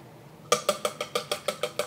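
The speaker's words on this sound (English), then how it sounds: "We're also using 2 eggs. Just gonna lightly beat them in a bowl." A fork or whisk lightly beats two eggs in a bowl: after a brief quiet, nine sharp, evenly spaced clinking taps follow in a quick, steady rhythm, close up and clear.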